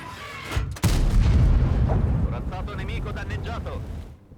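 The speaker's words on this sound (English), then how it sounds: "Yep, artillery still tried to shoot me." Artillery fire in the tank video game World of Tanks lands as one sudden heavy boom. A rolling low rumble follows, and a person talks over it.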